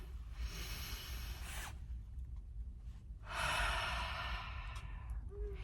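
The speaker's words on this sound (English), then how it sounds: "I want you to find a space to sit and breathe like this." A deep breathing exercise while seated: two long, slow, breathy exhalations close to the microphone, the first ending abruptly and the second stronger and longer after a quiet pause, with no talk.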